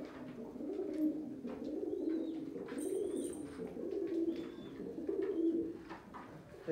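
Pigeons in a village setting cooing in low, repeated rolling calls, steady and fairly close, with faint chirps from other birds in the background.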